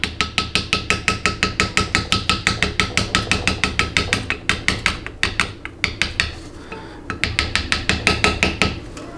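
A thin-blade screwdriver is tapped rapidly to work out a cylindrical retainer during a 4L80E transmission teardown, giving a loud, close, steady train of metallic hammer taps with a brief pause partway through.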